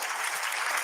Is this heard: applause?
yes